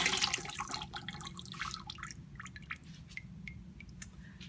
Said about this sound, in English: And then I'm just going to pour it out.